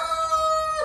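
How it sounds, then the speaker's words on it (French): A rooster, a gold partridge cock of a pure breed, crows in one long drawn-out call, loud and close, at a poultry breeding yard. "j'espère que vous m'entendez bien avec tous ces bruits de poules"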